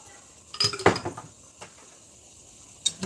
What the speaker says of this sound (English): I'm just going to mix that in.